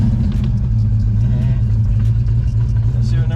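A 34-year-old 1980s Ford Fox Body Mustang engine cranks and catches, a loud steady low rumble running close throughout with people talking over it.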